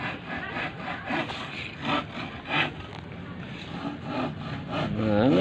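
A handsaw rasps through wood in rhythmic back-and-forth strokes, close and moderately loud, with faint voices in the background.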